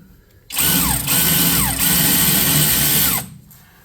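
A socket tool loosens a bolt on a Chevrolet Suburban fuel tank. It gives one sustained, loud mechanical whir of almost three seconds with brief dips, alone between quieter moments.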